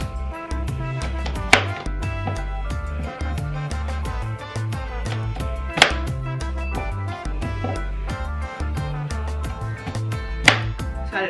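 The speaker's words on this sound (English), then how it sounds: "I'm actually gonna cut these potatoes up first because I wanna get those in the oven first" A knife chops potatoes for a vegan meal prep in steady, rhythmic cuts. The sharp taps repeat evenly over a continuous tonal background that sounds like music, with a few louder strikes standing out.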